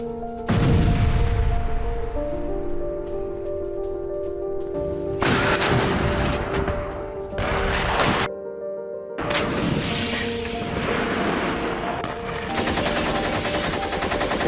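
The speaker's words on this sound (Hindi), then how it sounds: "आईडीएफ की विध्वंसक बमबारी से दहला दक्षिणी गाजा" Bombing in southern Gaza during an IDF airstrike comes through as loud, heavy repeated blasts and rumbling bursts, broken by brief gaps of silence.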